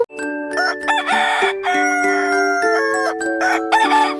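A rooster crows loudly and close, long drawn-out calls that rise and hold, repeated back to back with a brief cluck between.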